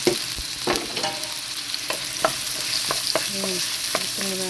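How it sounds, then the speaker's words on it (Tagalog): Plenty of onions sauté in a hot pan, sizzling steadily while a spoon scrapes and clanks against the metal in quick irregular strokes, close and fairly loud. "Okay, gisa na natin yung onion. Ayan, maraming sibuyas."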